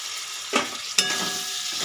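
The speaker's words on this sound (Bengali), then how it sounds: "এবার আমি দিয়ে দেব ভাজা মাছের মাথাগুলো" Fried fish heads dropped into sizzling cooked-down spices in a pan for a fish-head rice dish, two sharp splashes of sizzle followed by steady frying, close up and without talk.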